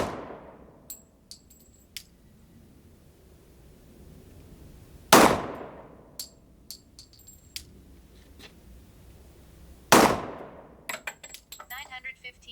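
Glock 27 .40 caliber pistol fired outdoors: two loud, sharp shots about five seconds apart, each with a short decaying tail, and faint clicks and handling noises in between.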